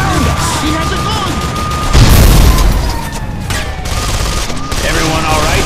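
Gunfire in the video game Call of Juarez: The Cartel, a loud fusillade of shots with a heavy booming burst near the start, over a continuous tense music bed with no talk.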